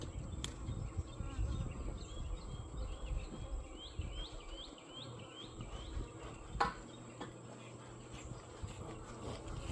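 Honey bees buzz around an opened beehive in a steady, moderate drone, with a few brief bumps and clicks from the hive equipment and faint background sounds outdoors.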